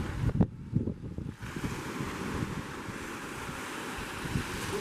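Sea waves wash at a beach under heavy wind buffeting the microphone, a constant rough roar with a few louder gusts near the start and no talk.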